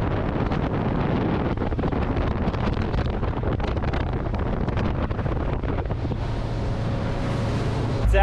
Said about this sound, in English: So as we're cruising along here, I'm traveling at about 30 knots